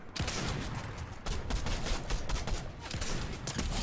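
Sustained loud gunfire rattles nonstop during a Fortnite match, overlapping rapid shots and impacts with a sharp crack near the start, continuous and close with no talk.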